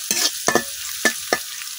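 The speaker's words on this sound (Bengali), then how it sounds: "পেঁয়াজ রসুনটা ভাজা দিলাম" Onion and garlic sizzle in hot oil while a spatula scrapes and stirs the pan in four quick, sharp strokes.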